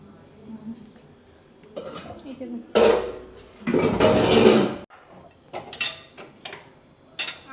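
Rice being served at home, with steel dishes and utensils clanking, scraping and clinking in several loud bursts, interspersed with quieter pauses.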